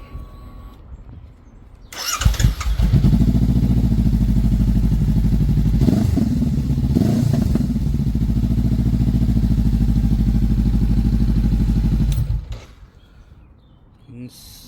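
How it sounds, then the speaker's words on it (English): A 2021 Honda CB500F motorcycle with its stock exhaust cranks briefly, fires up and idles steadily for about ten seconds at close range before shutting off, with quiet moments before and after. "So this is how it sounds before"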